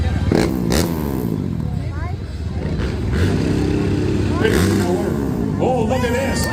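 A freestyle motocross motorcycle revs and surges during tricks at a stampede bike show, its engine rising and falling loudly through the air while an announcer talks over it.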